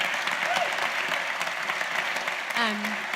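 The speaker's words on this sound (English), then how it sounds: "So let's all give him a big round of applause again" A lecture audience gives a warm round of applause after an urban planning talk, the clapping full and sustained, with a couple of voices briefly speaking over it.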